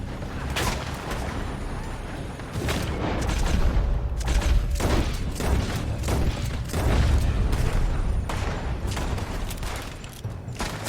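Gunfire from a building: dense, loud bursts of shots crack and boom in rapid, irregular volleys throughout, with sustained rumbling between them.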